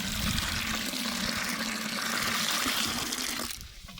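Water pours steadily into a bucket on a homestead, a dense continuous splashing rush that fills the scene for several seconds and then cuts off near the end, with no talking.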